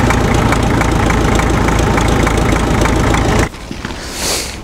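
A restored MTZ tractor engine runs at a raised idle that will not settle low, a loud steady close diesel rumble with fast knocking pulses, cutting off abruptly near the end to a quieter background.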